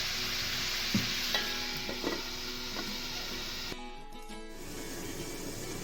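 Chicken cooking in a pan sizzles steadily while a spatula scrapes and knocks through it a few times, then the frying noise drops and changes as the stirring stops.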